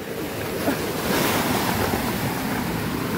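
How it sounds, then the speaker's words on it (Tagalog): Ocean waves roll and crash at high tide in a continuous roar, with gusty wind buffeting the microphone. "Grabe po, mga kalingap na alon. High tide."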